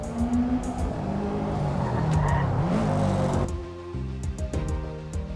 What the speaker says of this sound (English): The perfect weather continues as your car steers out of your pit box.